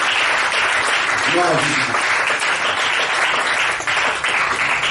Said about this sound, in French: On acclame le nom du Seigneur.